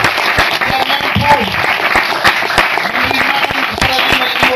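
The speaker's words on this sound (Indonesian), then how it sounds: "Tepuk tangan dulu untuk Roh Kudus" A church congregation claps during a sermon, a dense patter of many hands with sharp individual claps standing out, fairly loud and close, mixed with voices.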